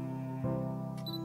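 A brief mechanical camera shutter click from a video game, heard alone over a steady tonal hum of background music, with a faint second click near the end.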